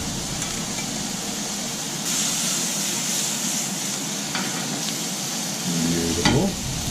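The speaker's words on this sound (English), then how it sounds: "My mushrooms and onions are cooking down beautifully." Mushrooms and onions fry in a pan with a steady, close sizzle, joined by brief stirring and scraping sounds and a short clatter near the end.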